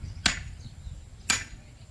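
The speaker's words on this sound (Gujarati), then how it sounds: "ઓલી હથોડી ઉપર ન લાગે" A hammer strikes a jamun tree branch twice, about a second apart, each blow a sharp, bright crack close by against a low outdoor background hum, with no speech.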